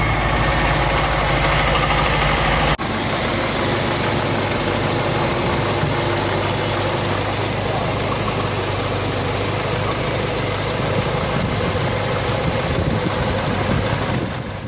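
A rebuilt Honda A-Series engine idles steadily and smoothly at close range, a continuous even hum with a slight shift in tone early on, with no talk over it.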